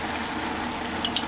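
Sauce goes into a hot pan while cooking a budget spaghetti dinner, giving a steady, close frying sizzle that runs throughout with no talk and a couple of faint ticks near the end.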